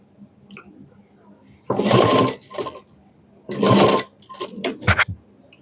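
Sewing machine stitching a double cut work blouse, with two sustained bursts of running and shorter intermittent stitching between them, fairly close and clear, without talk.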